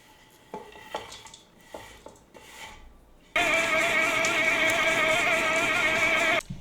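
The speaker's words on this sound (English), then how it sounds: "It's the vacuum upstairs going. It's set on a timer." A vacuum cleaner switches on upstairs in a home kitchen, first faint clinks and knocks, then a steady loud whining hum that runs on and cuts off near the end.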